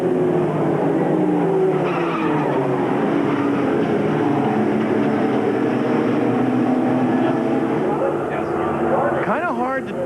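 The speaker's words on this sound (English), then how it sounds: "This car going into the wall" An ASA AC-Delco Challenge Series stock car at I-70 Speedway in Odessa, Missouri, going into the wall: loud, sustained engine roar and tire noise under a commentator's voice, with a sharp rise in screeching near the end.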